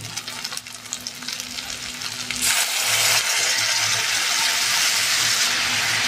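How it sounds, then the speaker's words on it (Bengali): Water added to onion and ginger-garlic paste frying in a pan: gentle sizzling and stirring clinks first, then a sudden louder rush of hissing and bubbling that holds steady. "জল দিয়ে দিচ্ছি।"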